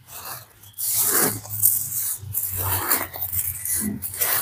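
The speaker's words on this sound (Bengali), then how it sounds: "এই লবণের সাথে চালটাকে খুব ভালো করে এইভাবে মাখিয়ে নিতে হবে, আর এইভাবে ঘষে ঘষেই মাখাতে হবে" Hands rub rice grains with salt and a little water, producing close, gritty scraping strokes in an uneven rhythm, each swipe a short rasp of grains grinding together.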